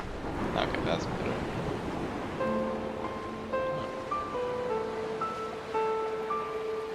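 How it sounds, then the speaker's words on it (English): Ocean surf in the video game Dear Esther washes in a steady, breezy roar, with soft sustained musical tones rising over it partway through. "Ah, that's a big ocean."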